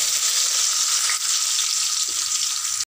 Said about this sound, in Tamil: இப்போ நான் வந்து வெங்காயத்தை சேர்த்து நல்லா வதக்கி விட்டுக்கிறேன்